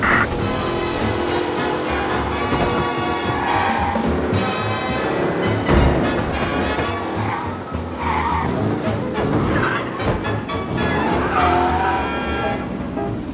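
A race car tears through city streets in Mafia Definitive Edition, engine revving hard with repeated tire squeals and skids, loud and close, amid traffic and other cars passing.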